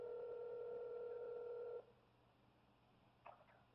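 An office phone gives a steady dual tone, which cuts off abruptly, followed by a brief faint click-like keypad beep near the end.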